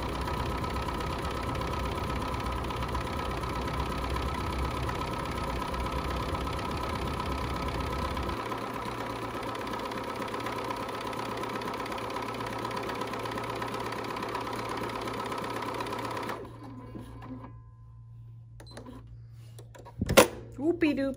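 A sewing machine stitching with two needles, one threaded red and one gray, runs with a steady, even mechanical hum that shifts pitch partway through, then stops, leaving near silence and a final faint clack.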